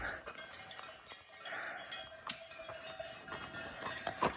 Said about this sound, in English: I've been hearing cowbells